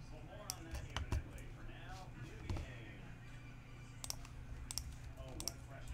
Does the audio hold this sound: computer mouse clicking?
yes